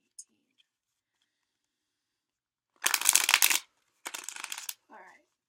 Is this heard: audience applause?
no